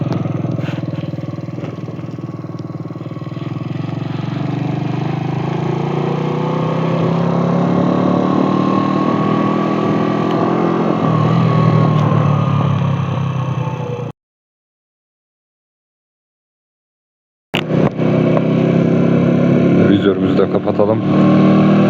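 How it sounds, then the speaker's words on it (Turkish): A Mondial SFC 50 motorcycle engine starts and runs steadily at idle for about fourteen seconds, loud and close. It cuts out briefly, then the engine noise returns. "Şöyle motorumuzu bir çalıştıralım."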